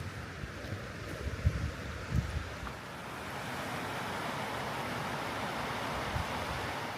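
Waterfall along a Michigan woodland walk, a faint broad rushing hiss that swells and steadies as it grows, with a few soft thumps of footsteps early on.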